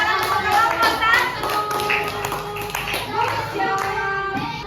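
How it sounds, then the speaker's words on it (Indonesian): Primary schoolchildren in a classroom clapping for a group, with fast, scattered claps mixed with children's voices and chatter throughout. "Oke, tepuk tangan untuk kelompok"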